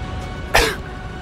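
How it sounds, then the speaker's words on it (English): A single short, close cough or throat-clear comes during a Gears of War 2 play session, sharp and brief over a low background hum. "still coughing, by the way."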